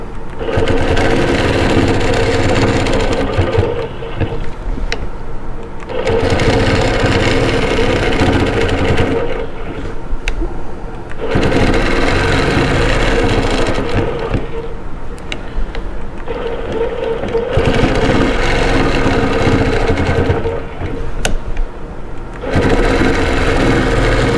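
A longarm quilting machine stitches a custom quilt in loud, steady runs of rapid mechanical buzzing, broken by brief quiet pauses about every five seconds, close and continuous with no talking.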